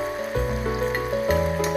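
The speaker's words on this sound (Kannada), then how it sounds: "ಡೀಪ್ ಫ್ರೈ ತಗಿ ತಗಿ ಡೀಪ್ ಫ್ರೈ" Aloo sticks deep-fry in hot oil at a street food stall, a dense close bubbling sizzle with a couple of soft clunks, brief and unbroken.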